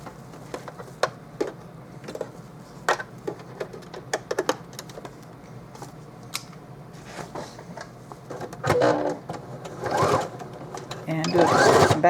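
A sewing machine stitches a backpack made from Dollar Tree placemats in short bursts of rapid whirring, with a few clicks and handling noises and longer runs near the end, close and fairly quiet.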